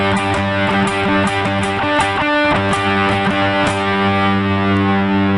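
A distorted electric guitar strums the chord rhythm of a song, a loud, steady pattern of down and up strokes with short muted chops between chords.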